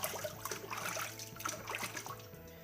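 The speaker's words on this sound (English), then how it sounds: "as I'm rinsing it off" Water trickling and splashing steadily as soap is rinsed off skin, a soft continuous running-water wash with small splatters, close by and fairly quiet, no talking.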